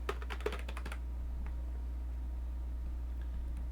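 Quick burst of typing on a computer keyboard during a Guild Wars 2 session, about a second of close, rapid key clicks, then quiet over a steady low hum.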